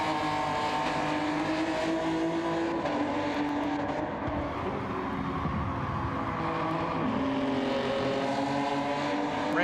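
Race car engine rounding the final corners of the Autopolis circuit in a racing video game, a continuous loud whine with pitch rising and dipping through gear changes, no talk.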